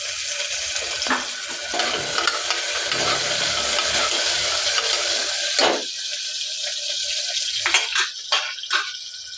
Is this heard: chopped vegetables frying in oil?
yes